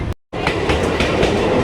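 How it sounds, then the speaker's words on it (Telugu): A Chennai suburban local train near Egmore station rolls along with a steady, loud rumble and rhythmic wheel clatter. The sound drops out for a moment near the start, then resumes and continues without pause. "చెన్నై లోకల్ ట్రైన్లో ఉన్నాం."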